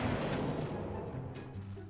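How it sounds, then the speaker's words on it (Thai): A laser skill from the Big Mom fruit in a One Piece video game ends in explosions, heard as a fairly quiet run of rumbling, crashing blasts that fades toward the end. "ทำดาเมจแบบรูดๆแล้วก็ระเบิดนะฮะ"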